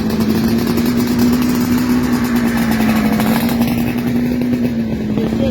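A motorcycle engine in Italy running loud and close, a steady droning hum holding one pitch with a slight wavering, then easing near the end.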